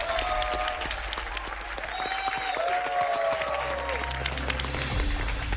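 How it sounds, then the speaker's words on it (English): Studio audience at a game show applauds a contestant who has just been eliminated, a steady wash of clapping from many hands with a few scattered cheers and voices mixed in throughout. "Give her a round of applause."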